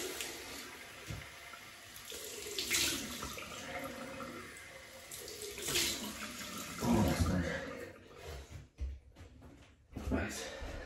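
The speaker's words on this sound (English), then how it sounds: "Cold water." Cold water runs from a tap into a sink during a wet shave, a continuous rushing splash that swells and dips with handling, with a voice speaking briefly over it.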